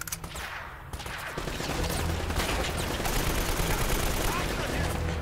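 Rapid bursts of gunfire from the video game Uncharted: Drake's Fortune, a dense continuous clatter that swells louder after the first second and holds steady to the end.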